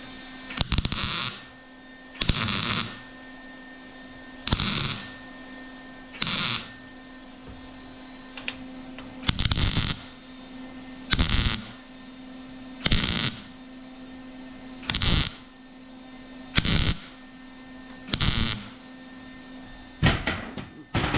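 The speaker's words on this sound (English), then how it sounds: "now we'll just tack weld this together." Tack welding on metal parts of a 1967 Chevelle during a power window conversion gives nine short, crackling bursts at steady intervals, each lasting under a second, close and fairly loud over a quiet garage hum.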